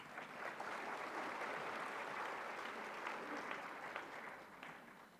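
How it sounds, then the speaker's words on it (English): An audience claps at a ministerial conference, a dense even wash of applause that holds steady and slowly tapers toward the end. "I think it deserves a round of applause"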